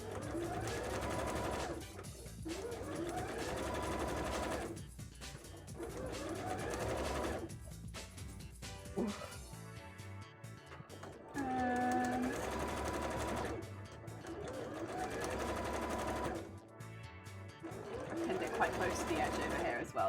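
Sewing machine stitching a cosplay petticoat in repeated runs of rapid mechanical chatter. The runs break off briefly and change speed, close and steady throughout, with a voice talking over parts of it.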